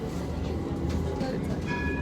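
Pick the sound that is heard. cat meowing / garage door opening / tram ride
tram ride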